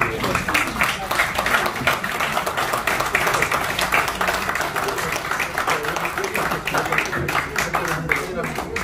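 Dense, steady applause from an audience at a book presentation ceremony, many hands clapping close together for the full stretch, with voices mixed in beneath.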